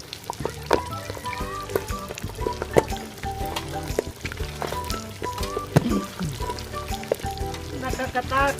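Pork leg frying in hot oil, giving a steady sizzle with crackling pops and bubbling, close and fairly loud, while background music plays throughout.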